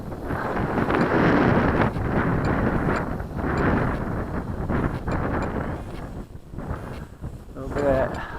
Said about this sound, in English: fighting the wind there a little bit